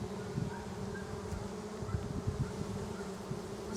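Honey bees hum in a low, steady drone around an open hive frame with capped honey and brood, a soft continuous buzz with faint flickers of individual wingbeats, no one talking.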